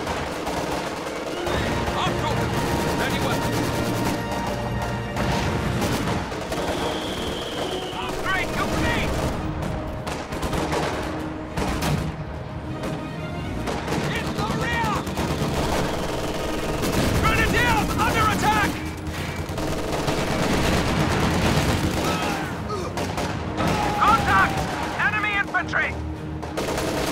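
Continuous machine-gun and rifle fire rattles through a World War II battle game on the La Gleize map, dense and sustained throughout with scattered shouted voices mixed in.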